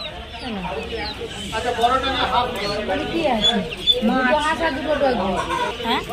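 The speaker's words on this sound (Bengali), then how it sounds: "তো সুন্দর সুন্দর হাঁস রয়েছে এখানে।" Chickens and ducks at a busy poultry market, with repeated clucks and squawks overlapping near and far, and people's voices mixed into the bustle.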